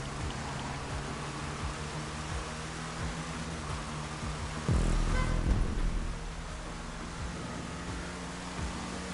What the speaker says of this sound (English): the rain makes for a very interesting challenge